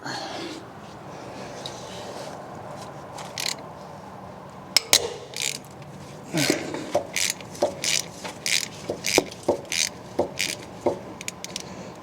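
On a 2005 GMC Sierra 2500HD, a ratchet works loose an original LS exhaust manifold bolt, giving close, quick clicking strokes in short repeated bursts after a quieter stretch of low shop ambience.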